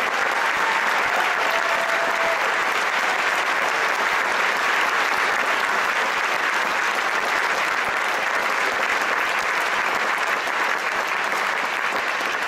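A packed audience at the Balboa Theater applauds for the staff during the w00tstock 3.0 show, a loud, dense, unbroken wash of clapping that holds steady throughout with no speech on top.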